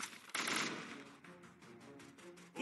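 Rapid video game gunfire, a burst of repeated shots that starts loud and fades over a couple of seconds, with no talk over it.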